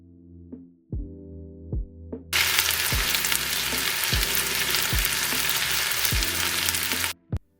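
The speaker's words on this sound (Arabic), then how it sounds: "منين شفت الدجاج ديالي صافي بدا كيتعس ليا مع هذيك البصيله تشحر مزيان" Chicken pieces and onion frying in a pot for Moroccan couscous: a few thuds and taps, then a loud, dense sizzle bursts in and holds for about five seconds under repeated knocking beats before cutting off, close, with no speech.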